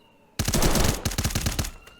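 Rapid automatic gunfire from a video game match bursts in after a brief quiet moment, a loud dense volley of shots with distinct repeated cracks that taper off near the end.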